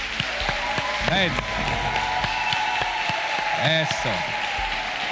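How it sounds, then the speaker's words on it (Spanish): A church congregation claps in a continuous ripple of applause beneath someone speaking over it, his voice louder and closer than the clapping. "con un gran aplauso a nuestro Dios"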